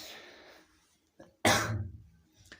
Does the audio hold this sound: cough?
yes